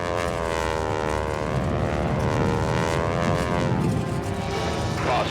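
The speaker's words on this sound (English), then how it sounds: "Marcus gets the Stearman back on the ground" A Stearman biplane's propeller engine drones in flight, a loud, continuous, throbbing tone that rises and falls slightly as the aircraft passes, with no voices.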